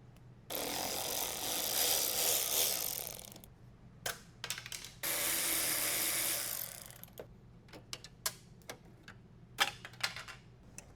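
A ratchet wrench turns a bolt on a BMW E36 M3 hood, with two longer bursts of rapid clicking followed by short, irregular ratchet strokes, close and fairly clear.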